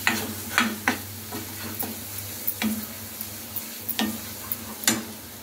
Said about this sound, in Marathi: 1 चमचा हळद टाकलेली आहे, 1 चमचा गरम मसाला टाकलेला आहे आणि मस्त असे परतवून घ्यायचा आहे मसाला